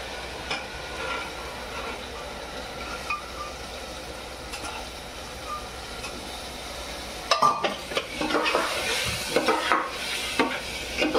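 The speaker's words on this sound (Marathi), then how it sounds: "आणि लगेचच आपल्याला चण्याची डाळ टाकून घ्यायची आहे।" Soft sizzling in a hot pan with occasional scraping, growing louder and busier toward the end as chana dal is stirred with a utensil; no talking.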